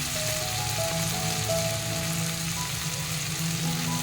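Mustard paste, green chillies and spices sauté in a pan, giving an even, continuous sizzle and hiss with no voices over it.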